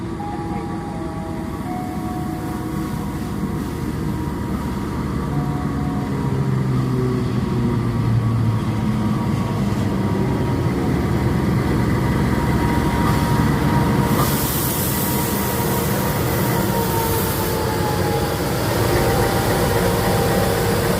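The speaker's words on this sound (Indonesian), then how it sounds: "sebentar lagi ini akan masuk KA Malabar, tujuan dari stasiun Malang" The KA Malabar passenger train, bound for Bandung from Malang, rolls into a station with a loud, sustained rumble of wheels on rails. Faint squeals and shifting tones rise partway through, and nobody speaks.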